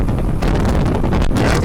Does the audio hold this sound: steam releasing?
no